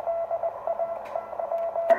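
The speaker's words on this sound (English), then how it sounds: "That's how the rig sounds in CW." A CW Morse sidetone from an amateur radio rig in CW mode, heard through its built-in filter, plays steady keyed beeps at a single pitch over a noticeable hiss of band noise, alone and moderately loud.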